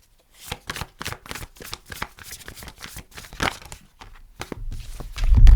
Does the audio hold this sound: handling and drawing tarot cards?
yes